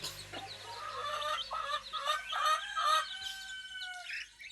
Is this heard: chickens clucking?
yes